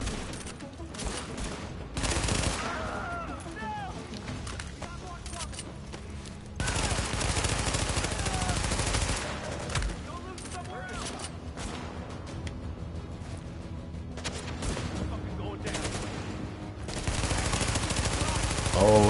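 Gunfire in the video game The Division, with loud bursts and automatic fusillades repeating through a firefight and short lulls between them.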